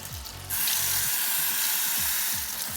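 Warm water gushes from a tap into a sink, a steady broadband rush that swells louder after a brief quieter start, with faint low rumbling underneath.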